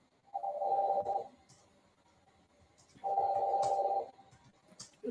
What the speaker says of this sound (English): there was a phone making noise